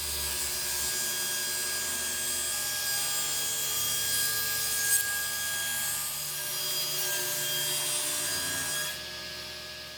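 A continuous cut through wood guided along a fence jig, a sustained steady rasping with a faint mechanical hum that drops away near the end, close and without voices.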